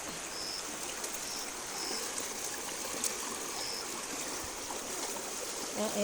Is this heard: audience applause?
no